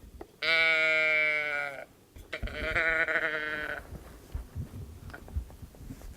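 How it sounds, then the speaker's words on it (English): Tipped back and forth, a teddy bear's tilt growler voice box gives two long, sheep-like bleating groans in a row, close and clear, followed by soft rustling and handling noises. "It's a tilt, called a tilt growler."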